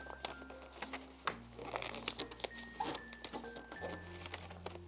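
Paper being folded and creased by hand during a children's paper-folding lesson, with steady close crinkling and rustling, sharp crunchy creases and light patter throughout, fairly quiet.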